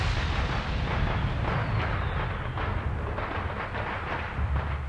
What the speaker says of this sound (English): The rocket carrying Shan Yu slammed into the fireworks tower.